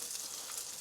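Food sizzling and frying in a pan while cooking a meal on a diet, a steady broadband hiss with faint crackle throughout, fairly quiet and without talk.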